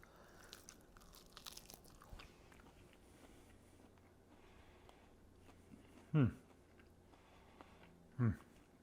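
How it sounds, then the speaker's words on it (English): Two sharp crunchy bites of air-fried food with crispy skin, a couple of seconds apart, stand out over a quiet, faintly noisy room. "Let me take a bite."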